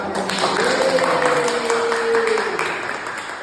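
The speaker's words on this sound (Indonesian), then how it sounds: "Ayo kasih tepuk tangan." Schoolchildren clap together in a classroom, a steady patter of many small hands under a teacher's voice and a drawn-out sung or spoken tone.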